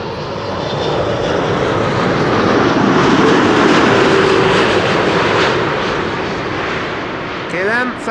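A KLM Boeing 787-10 jet airliner arriving from Delhi roars steadily overhead on approach, loud broadband engine noise swelling and fading with a faint whining tone beneath, alone with no talk.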